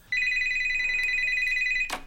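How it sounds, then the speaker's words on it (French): A telephone rings in a single long electronic trill, steady and loud, lasting nearly two seconds before cutting off into a brief rustle. "Allez, téléphone qui va sonner."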